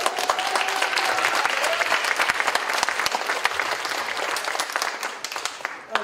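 An audience at a technical school awards ceremony claps steadily for about six seconds, a dense even applause that thins slightly near the end.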